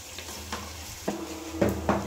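Mutton fries in a hot pan with a low, steady sizzle, while a spoon scrapes and stirs in a few distinct strokes that grow louder toward the end.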